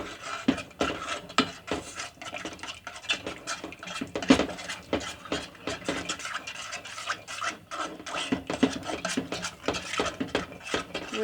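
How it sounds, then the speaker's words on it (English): Macaroni and cheese sauce stirred in a saucepan, a steady run of scraping, rubbing strokes of a utensil against the pan with soft clinks, close and fairly quiet, with no talking. "You're going to stir while it's in the saucepan."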